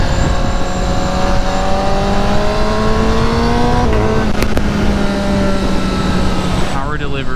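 A 2019 Honda CBR1000RR SP sportbike engine roars steadily at speed on a test ride, its tone climbing in pitch through the gears, loud and continuous with wind noise.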